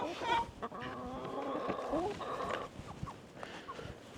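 Chickens on a farm cluck and squawk in a busy, overlapping flock, with several sharp calls rising above a steady background of poultry noise, fairly close.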